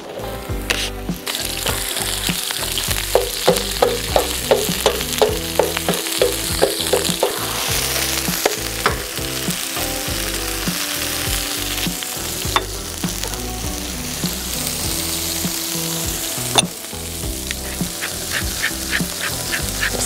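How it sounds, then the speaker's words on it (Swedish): Chanterelle mushrooms sizzle and fry steadily in a hot pan, a close, continuous crackle with frequent small pops and occasional stirring, no voices present. "Så att vi börjar steka på svampen något."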